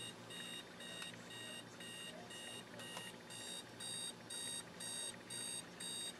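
Electronic alarm clock beeping in a steady repeating pattern of short bursts, moderately quiet, over a low background hum.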